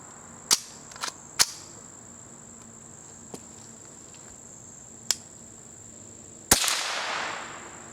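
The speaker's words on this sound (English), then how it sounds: "we'll be shooting at the bottom target on the far right." Several sharp, near gunshots from a rifle loaded with Remington Golden Bullet ammunition fire at a target, irregularly spaced, with a louder final shot trailing into a brief decay, over steady outdoor insect chirping.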